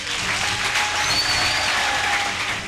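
An audience at a university debate final applauds, a dense wash of clapping hands that stays strong and even for a few seconds.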